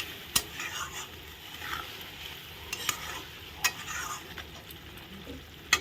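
A thick spice paste is stir-fried in a pan with a soft steady sizzle, broken by scraping strokes and a few sharp clinks of a spoon on metal spread across several seconds, and no voices.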